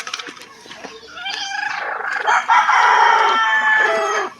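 A chicken squawks and crows loudly up close, with a few clucks before the long, strained call.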